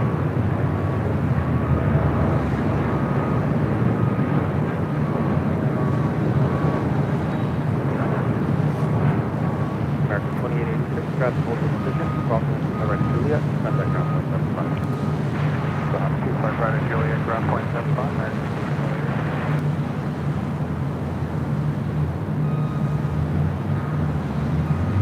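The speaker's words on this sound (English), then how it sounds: "Turkish Airlines flight 180 heading back to Istanbul. 787-9 Dreamliner taking off on the south side." A Turkish Airlines Boeing 787-9 Dreamliner takes off from the south side at LAX, a continuous, distant jet roar rumbling steadily while people talk over it.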